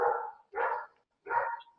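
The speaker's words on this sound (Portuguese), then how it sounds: "soltaram até o cachorro novamente aí" A dog barks three times in quick succession at moderate distance, each bark a short full burst with brief gaps, with no other sound around it.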